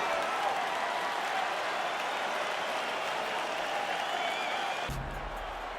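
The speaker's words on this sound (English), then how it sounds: "crowd getting excited as this fight gets underway" A dense arena crowd roars and applauds continuously as a fight begins in UFC 4, loud and sustained for several seconds before cutting off abruptly near the end.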